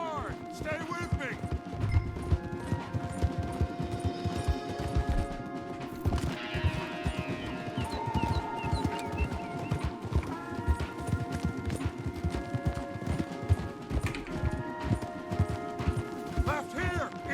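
Horses gallop in the Red Dead Redemption video game: steady, rapid hoofbeats drum throughout beneath game music and shouted dialogue, with occasional clatter and a whinny.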